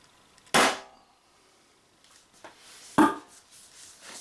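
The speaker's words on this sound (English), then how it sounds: "It might not fly fast, but it will usually give a quite impressive blast out of muzzle." A 40mm airsoft launcher fires on red gas: two sharp, loud muzzle blasts about two and a half seconds apart, each decaying quickly, with faint handling noise in between.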